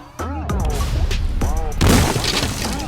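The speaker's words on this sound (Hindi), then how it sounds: "हम लोग जाते हैं पटाखे जलाने।" Cartoon Diwali firecrackers go off in loud, close bursts, with booms and crackling mixed with swooping whistle-like tones, ending in a denser, sustained crackle.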